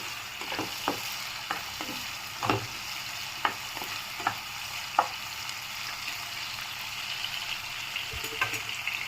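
Chopped green chilies, mint and curry leaves sizzle softly in a pan while a spoon stirs them, with light scraping taps sounding at irregular intervals over a quiet, steady frying hiss.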